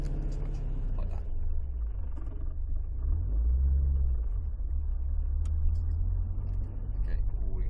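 A car engine idles under a light, gentle throttle on a driving course, giving a steady low rumble with a slight swell in the middle, with no talk over it.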